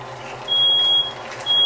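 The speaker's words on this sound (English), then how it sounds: "And your fire alarm is being sensitive again." A kitchen smoke alarm sounds while food is cooking, giving two shrill electronic beeps over a steady low hum of background noise.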